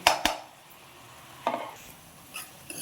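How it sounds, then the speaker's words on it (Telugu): Onions being stirred in a pan for vegetarian Maggi noodles, a few distinct scraping clinks and stirs over a faint hiss, spaced apart and fairly quiet. "ఆనియన్స్ మాత్రం బాగా వేగాలి, మధ్య మధ్యలో కలుపుకుంటూ ఉండండి"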